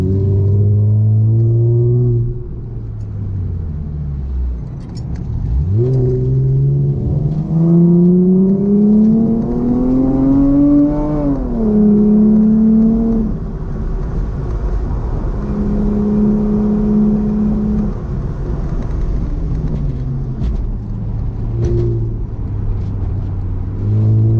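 A Chrysler Crossfire driven hard around a race track, its engine loud and close, revving up through the gears, dropping off into corners and pulling again, with tire and wind rumble beneath.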